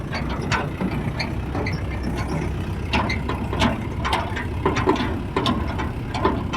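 A GM paddy harvesting machine works in a field beside a muddy road, its engine running with continuous clattering, ratcheting mechanical noise and irregular knocks at a moderate distance, steady throughout without talking.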